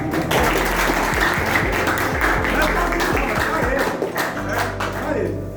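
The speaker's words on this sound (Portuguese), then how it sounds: "Palmas pro Carlos" An audience at a sports physics talk on tennis claps for Carlos as he comes to the front, with steady, fairly close applause and an underlying tonal hum or voice running beneath it.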